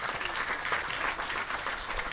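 An audience applauding Kabardian musicians as they are invited onto an outdoor stage at a Caucasian flute event on Red Square, dense crowd clapping heard at moderate distance throughout.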